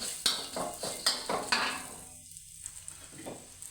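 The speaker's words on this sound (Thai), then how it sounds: "ผมก็ จะเทพริกที่เราคั่วไว้ครับ ใส่ แบบนี้นะครับ" Roasted chilies tipped into hot oil in a pan, sizzling and hissing with a run of sharp spoon-stirring scrapes and clinks, then settling to a quieter fry with a few faint taps.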